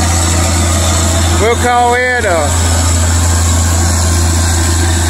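Tractor engine idles steadily while drilling wheat, a loud, constant low drone with a rhythmic throb throughout, and a voice briefly speaks over it.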